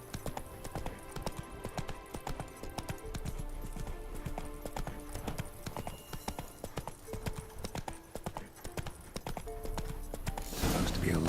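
Horse hooves galloping in The Witcher 3: Wild Hunt, a dense, steady clip-clop rhythm running throughout at moderate level, with a rushing swell near the end.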